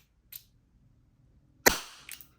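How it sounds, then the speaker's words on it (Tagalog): A silver Wingun S731 CO2 revolver fires a single sharp, loud shot with a short decaying tail, preceded by a faint click and followed by soft mechanical clicks in a quiet room. "Malakas to, malakas ang putok niya sa, sa totoong buhay."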